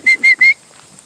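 Three short, shrill whistle blasts in quick succession at a dog park, calling a dog back, loud and close, followed by quiet outdoor ambience.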